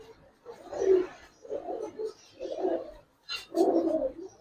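Pigeons coo in four low, rounded bursts about a second apart, close and clear, with a brief higher flutter or call just before the last one.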